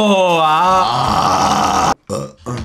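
A long, loud, voiced burp with a wavering pitch is followed by short gasping vocal sounds, close to the microphone.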